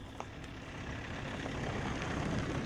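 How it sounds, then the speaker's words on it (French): A truck rolls past on a road near a redwood grove, a steady broadband rumble that swells gradually and stays loud through the end, with no voices. "Voilà, je laisse passer le camion."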